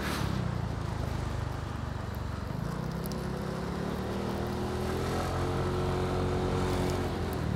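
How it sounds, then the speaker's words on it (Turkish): Motorcycle engine hum while riding, a steady loud drone with wind rush and a slowly rising pitch, continuous throughout. "Motorun sesi ne alemde acaba?"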